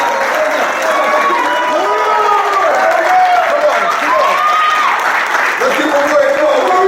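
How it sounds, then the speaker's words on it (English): Steady applause from an audience at a martial arts school's black belt promotion ceremony, a dense continuous wash of clapping with crowd murmur and faint voices, loud and sustained throughout. "can we give them a round of applause?"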